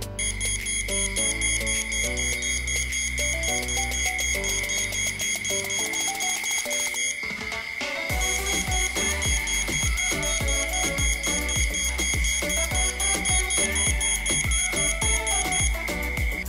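A burglar alarm driven by an ESP32 board sounds continuously, a loud, piercing electronic tone with rapid repeating beeps and a steady high whine, with a brief change in pattern midway through.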